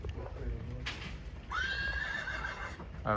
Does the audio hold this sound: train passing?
no